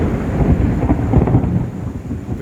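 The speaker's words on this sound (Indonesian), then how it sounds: "Petir guys." Deep thunder rumbles loud and close in rolling low bursts over a steady wash of rain, outdoors near an old hillside water reservoir in Tarutung.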